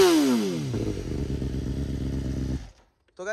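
A superbike fitted with an aftermarket exhaust is revved nearby. The loud engine pitch sweeps down and settles into a throbbing, crackling idle, then cuts out sharply and starts to build again at the end.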